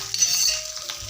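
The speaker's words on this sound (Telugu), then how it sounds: "ఇంకా ఆనియన్స్ ఫ్రై అయిపోయాయి" Onions frying in oil with curry leaves, a brief steady hiss of sizzling with faint clinks of a utensil on the pan.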